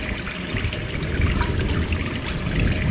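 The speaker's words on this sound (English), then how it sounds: "Turn on faucet" Faucet water runs steadily in the Gone Home video game, a continuous broadband trickling rush that stays even and fairly close throughout with no talking.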